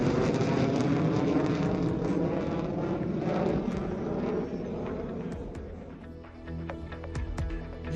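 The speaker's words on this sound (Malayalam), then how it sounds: "UPയിലെ എക്സ്പ്രസ് വേയിൽ യുദ്ധവിമാനങ്ങളുടെ പരിശീലനം" Fighter jets fly low during a training exercise on an expressway in Uttar Pradesh, a loud broadband jet roar that swells and sustains, then thins slightly toward the end, with no talking.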